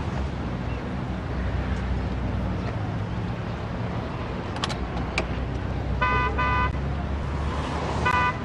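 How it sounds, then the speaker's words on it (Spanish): Short car horn toots sound out twice near the end over a steady low rumble of street traffic, with no one speaking during the clip. "te están pitando."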